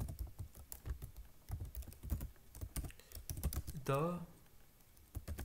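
Someone types C++ code on a computer keyboard, the keys clicking in quick irregular bursts near the mic while someone talks over them.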